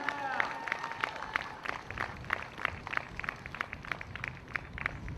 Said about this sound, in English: Give a round of applause for Dawn Dunlap